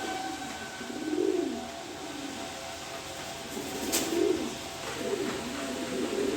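A racer pigeon coos again and again in soft, throaty rolls spaced a second or more apart, close but moderately quiet over a steady background hiss.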